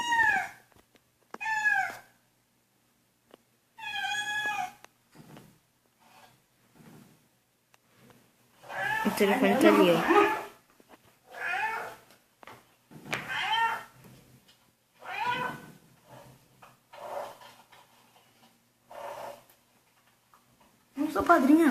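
A small cat, a kitten, meows in short separate calls with quiet gaps between them, close and clear, while people chat in Portuguese in the same room.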